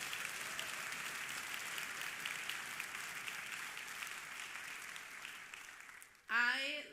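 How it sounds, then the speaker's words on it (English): A concert band association audience applauds students in a sustained, even wash of clapping, moderately loud throughout before a brief voice breaks in at the very end. "Can we all give them a round of applause?"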